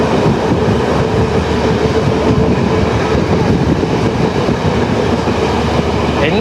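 An intercity train runs from Colombo to Jaffna in Sri Lanka, its steady loud rumble and rail clatter continuing without a break throughout.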